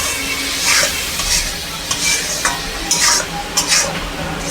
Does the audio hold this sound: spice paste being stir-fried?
yes